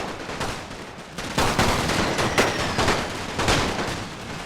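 Machine gun fire rolls across a World War One battlefield in The Great War: Total War mod, steady dense crackling shots with louder bursts recurring about once a second amid a busy battle din.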